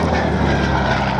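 Propeller aircraft engine at the Duxford Flying Legends air show, a loud, continuous, close droning roar with a deep rumble and no break or talk through the brief stretch.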